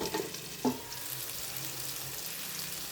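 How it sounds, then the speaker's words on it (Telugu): Bitter gourd pieces fry in a pan, giving a quiet steady sizzle with a couple of brief stirring clinks near the start. "వీటిని రంగు మారే వరకు వేయించుకోవాలండి"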